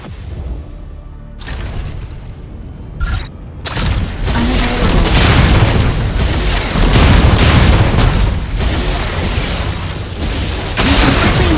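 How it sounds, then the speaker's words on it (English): Heavy booming blasts from Gauss cannons fired during a boost attack in the mech game Mecha Break, a dense run of loud, overlapping explosive bursts over mechanical rumble, with no speech. "Fire your Gauss cannons at the target during a boost attack."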